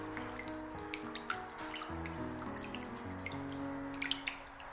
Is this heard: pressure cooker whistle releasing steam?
no